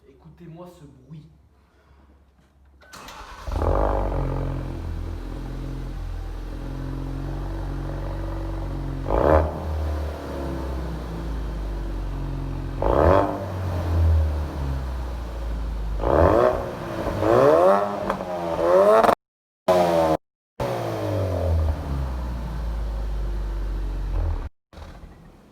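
An old 350-horsepower car engine idles deep and loud, then revs hard several times in rising, roaring surges, with brief cutouts near the end.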